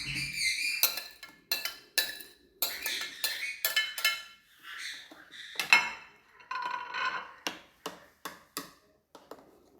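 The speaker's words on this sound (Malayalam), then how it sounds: "ഈ പഴയ ഇതിലേക്ക് ചേർത്തെടുക്കുകയാണ്." Banana pieces are mixed into batter in a bowl, with a spoon clinking and tapping against the bowl in quick, irregular bursts, close and fairly clear.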